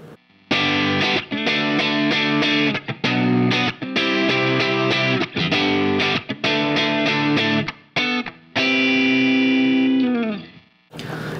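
Clean, compressed electric guitar through a Line 6 Helix with the overdrive off, playing choppy, muted funk-style chords and then a ringing sustained chord, loud and alone.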